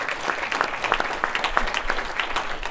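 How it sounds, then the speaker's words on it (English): A church congregation claps during a worship service, a steady wash of many hands clapping at moderate loudness throughout, with no clear talking over it. "Let's give the Lord a clap."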